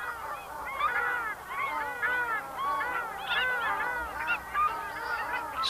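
Hundreds of wading birds gathered to feed in freshwater in the Mackenzie Basin, New Zealand, give a continuous chorus of overlapping honking, yelping calls at moderate distance, busy and unbroken.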